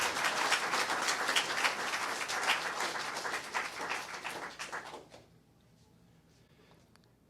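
An audience claps at a memorial celebration of life for Allen Cooper. The applause is dense and steady for about five seconds, then stops abruptly, leaving a quiet room.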